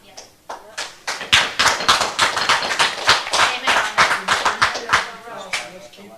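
An audience at a city council meeting in Trinidad, Texas, breaks into brisk, fairly loud applause that starts sparse and swells into dense clapping, with a few voices mixed in.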